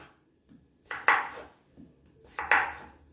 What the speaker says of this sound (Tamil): பாருங்க, நீளமாக நம்ம ஃப்ரெஞ்ச் ஃப்ரைஸ் ஷேப்புக்கு கட் பண்ணி எடுத்தாச்சு